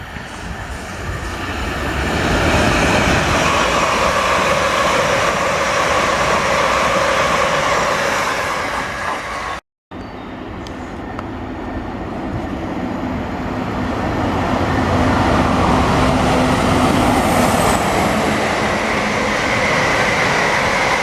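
A South Western Railway class 701 suburban electric train rolls past at length, a loud sustained rumble and rail roar with steady wheel noise that briefly cuts out partway through, then resumes just as strong.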